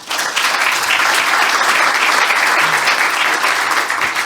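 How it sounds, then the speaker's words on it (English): An audience at a tech conference talk bursts into applause, dense steady clapping from a room full of people lasting several seconds. "Let's give them a round of applause."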